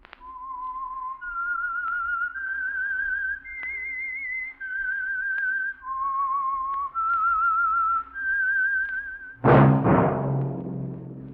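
Signature whistle of the Signal Oil Program radio mystery show, a lone melodic whistled tune of sustained rising and falling notes, clear and close, ending in a sudden loud orchestral chord.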